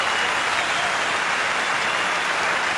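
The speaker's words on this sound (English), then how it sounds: "Great burst of applause." Steady crowd applause at a one-day World Series Cricket match between Pakistan and West Indies, a dense, even wash of clapping from a large stadium audience that runs unbroken from start to end.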